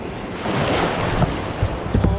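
A sea wave rolls past a kayak on calm coastal water off Pembrokeshire: a close, broad wash of water swells and fades over a couple of seconds, roughened by wind buffeting the microphone, with no voices.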